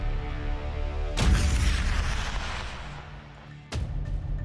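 A rocket launches after a countdown, a sudden loud boom that rolls into a fading roar, then a second sharp blast near the end, with no voices.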